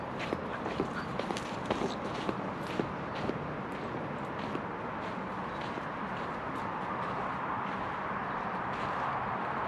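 A dog runs around a riverside campsite, its quick footfalls pattering close by over a steady wash of water and outdoor ambience, with no one talking.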